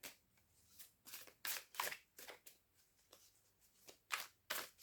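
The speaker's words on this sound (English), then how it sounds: "I love these cards. They're so lovely to shuffle. They just glide." Playing cards being shuffled by hand in a quiet room, a series of crisp riffling bursts with short pauses between them, close and fairly faint, with no talking.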